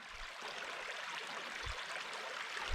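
Steady stream water flowing through the bush at a camping and gold-panning spot, a continuous broadband rush and trickle, fairly close and even throughout, with a couple of low thumps.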